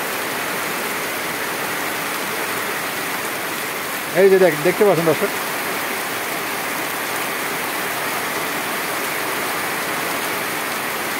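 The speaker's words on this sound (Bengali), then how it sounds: "এই মাত্র বৃষ্টি আসলো।" Steady rain hisses throughout, a broad even wash of falling water; someone speaks briefly over it partway through.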